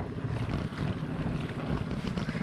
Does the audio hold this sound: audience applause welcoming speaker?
no